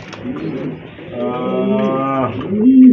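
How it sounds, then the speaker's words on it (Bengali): A pair of large pigeons coos in a steady, close, harmonic warble that swells through the middle and holds to the end, with no talk over it. "মাশাআল্লাহ, বিগ সাইজের এক জোড়া কবুতর"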